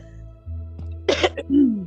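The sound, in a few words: cough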